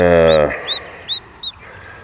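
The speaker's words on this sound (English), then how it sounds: "I got a little baby chick here" A few high, thin peeps from a day-old baby chick under a bantam hen in a coop, evenly spaced and close by, after a brief low, voice-like sound at the start.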